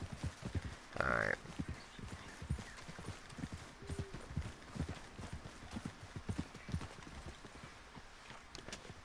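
Rhythmic horse hooves clip-clopping steadily at a close distance in Red Dead Redemption 2, with a brief whinny-like burst near the start and a faint game soundtrack underneath.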